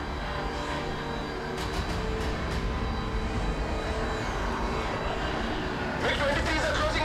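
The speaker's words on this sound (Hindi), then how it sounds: "MiG-23s are closing in on targets." MiG-23 fighter jets closing in during a film climax, a steady loud engine roar spread across the whole clip, heard with voices talking over it.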